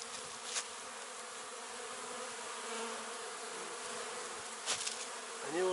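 Honey bees fly around their hives in spring, a dense, steady buzzing hum from many insects near and far, with a few louder passes close by and no talk.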